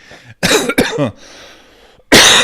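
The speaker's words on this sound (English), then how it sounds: "Still, residual cough" Two or three harsh, close coughs in quick succession, followed by a short pause and another loud cough.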